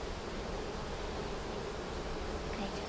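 Dense, steady buzzing of many honey bees close by in an opened hive, a continuous droning hum with a soft rustle underneath.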